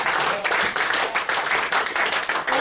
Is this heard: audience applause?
yes